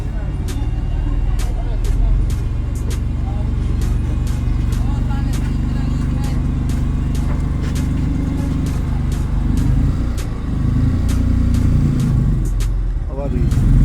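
An old abandoned Nissan car under restoration driving along, its engine droning steadily and loudly throughout with regular clicking ticks, while someone talks over it.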